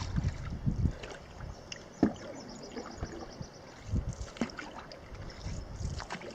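Solo canoe paddling on a Boundary Waters lake: soft, faint dips and swishes of a paddle at an irregular pace over light wind and water noise, with no voices.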